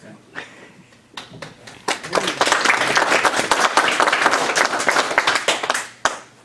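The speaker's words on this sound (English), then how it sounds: "I think we need to give a round of applause for everybody" At a historical society show-and-tell meeting, a few scattered claps quickly swell into a full round of applause from the room, hold steady, then taper off near the end, with some voices mixed in.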